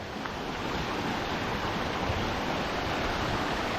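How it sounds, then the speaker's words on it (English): Steady rushing water of a brook swelling toward a torrent in the Wood of Cree, a continuous broadband roar with no breaks, moderately near and with no voices. "A lovely wee babbling brook. No, is that a raging torrent?"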